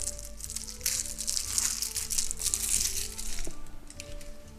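Plastic wrapping is crinkled and torn away from a card game box for The Big Book of Madness, a close, busy rustling that swells and fades over a few seconds.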